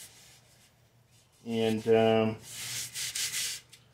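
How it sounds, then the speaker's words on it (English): Light hand sanding with sandpaper on a drum's wrapped shell, a soft rubbing scrape that runs in a few strokes between stretches of nearby talking. "I can just get some sandpaper and just give this a light sanding"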